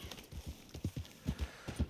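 Horse hooves clip-clop in Red Dead Redemption, a quick, uneven run of hoof strikes at a steady trotting pace, fairly faint, with no talking.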